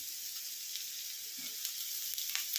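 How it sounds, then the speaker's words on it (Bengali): A steady, soft sizzle of potatoes and onion frying in hot oil, continuous and fairly quiet, with faint crackles throughout. "আমি এখানে আলুটা ভালো করে ভেজে নিয়ে ফিরছি"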